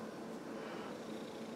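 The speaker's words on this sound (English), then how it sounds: "listen to that purring" A house cat purrs softly and steadily at close range, a faint, even rumble with no voices over it.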